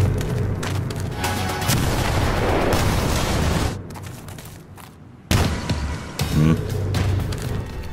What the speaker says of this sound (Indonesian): Dari arah hutan terjadilah beberapa ledakan